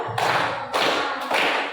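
Several sharp bursts of group hand clapping in a classroom, each a short dense flurry of claps with brief gaps between, close and fairly loud with no talking over them.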